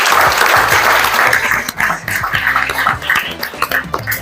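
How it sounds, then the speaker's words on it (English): A graduation-ceremony audience claps in a dense, loud burst that tapers after about two seconds into thinner, uneven clapping. "Let's give a little round of applause."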